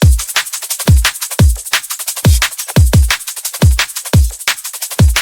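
A punchy, fast drum and bass beat with deep kicks and crisp snares and hats in a busy, syncopated pattern, loud and alone.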